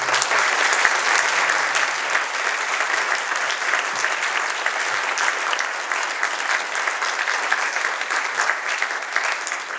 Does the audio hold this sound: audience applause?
yes